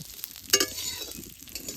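Small pieces of dried fish sizzle and crackle in a pan of shallow oil, with a brief stir and clatter partway through, steady and close.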